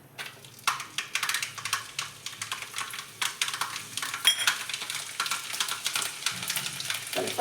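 Cumin and mustard seeds crackling in hot oil for tempering, a dense run of sharp, rapid pops and spits over a soft sizzle, close and fairly quiet, with no talking.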